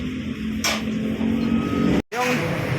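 A Honda NS160 fuel-injected motorcycle, revived after two years of sitting and fitted with a new ECU and stator, runs at a low, unsteady idle up close, with a brief cut in the sound near the end.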